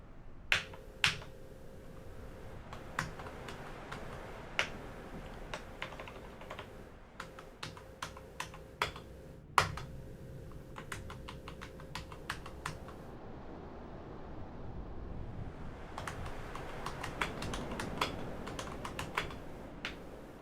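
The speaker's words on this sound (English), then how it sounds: "my keyboard's crapping out." Clicky computer keyboard typing in bursts of rapid keystrokes with short pauses, close and fairly quiet, with no talk over it.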